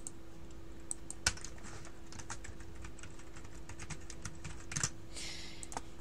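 Steady typing on a computer keyboard, a continuous run of light, quick key clicks with a few louder strokes, close and alone against a faint background hum.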